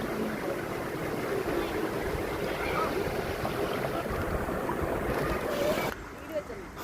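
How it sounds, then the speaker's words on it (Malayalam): Steady rushing water of a branch of Vellarimedu waterfall flows continuously around rocks in monsoon, a broad wash of noise with wind mixed in; it drops quieter near the end. "ഇത് ഈ പാറയുടെ ചുറ്റിനും കൂടി ഇങ്ങനെ ചുറ്റിങ്ങനെ ഒഴുകി പോണേ."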